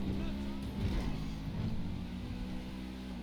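A GTA supercar engine droning steadily while driving, a low humming motor tone with slight revving swells, heard under someone talking.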